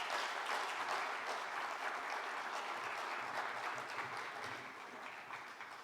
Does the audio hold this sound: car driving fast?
no